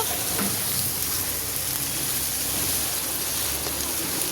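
Chopped green chilies and tomato frying in oil, a steady soft hiss and crackle that holds evenly throughout with no voices.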